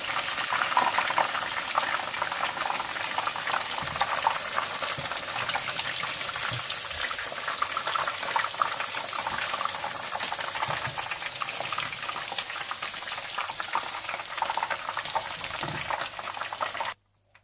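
Chicken pieces deep frying in hot oil in batches for chicken Manchurian, a dense continuous bubbling hiss that stays loud and even, then stops abruptly at the very end.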